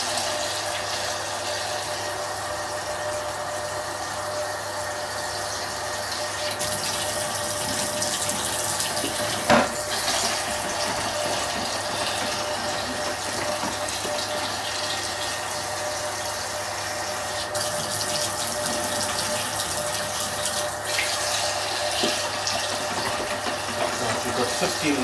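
Cold water runs steadily from a tap to top up a homebrew beer kit fermenter, a continuous hiss and splash that holds for the whole stretch and brightens slightly partway through.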